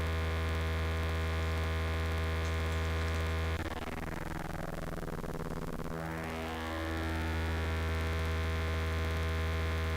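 A modular synthesizer drone passes through a wave folder, a dense buzzing hum thick with harmonics whose tone sweeps and folds down and back up in the middle before settling into a steady drone again, with no voices.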